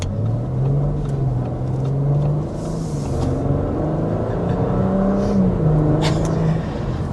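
A 2026 Audi S5 sedan under light acceleration gives a low, smooth engine drone with gently rising and falling pitch, steady road rumble beneath, heard from inside the cabin.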